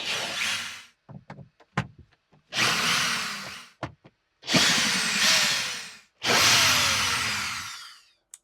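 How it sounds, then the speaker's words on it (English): Power drill backing out the four bolts holding a roof AC unit to its distribution box, four loud whirring bursts that rise and fall, separated by short clicks and handling knocks. "I am going to remove these 4 bolts that is holding the roof AC to this distribution"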